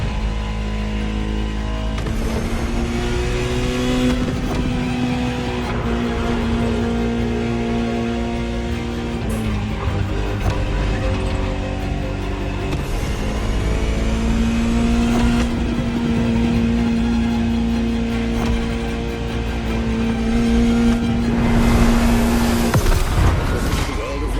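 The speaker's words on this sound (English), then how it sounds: "Just listen to the car you're driving." A Ferrari supercar engine drives steadily in The Crew Motorfest, loud and continuous for the whole stretch, with sustained revs and gear-change dips and a swelling roar near the end.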